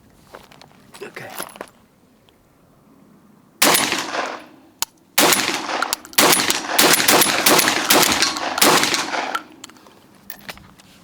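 Several Benelli M4 shotgun blasts firing buckshot, loud and close outdoors, first a single shot, then a rapid string of booming reports with ringing tails, quieter handling noises between.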